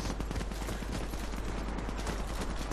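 Sustained machine gun fire in the shooter game Warface, a dense, rapid, unbroken stream of shots with a heavy low rumble, loud and close throughout.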